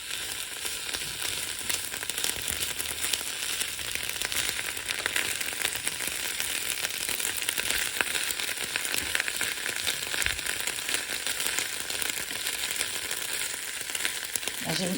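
Food frying in a pan at home, likely flageolet beans being cooked, giving a steady, close sizzle with fine crackling that runs unbroken throughout and carries no talk.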